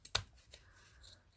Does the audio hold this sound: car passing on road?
no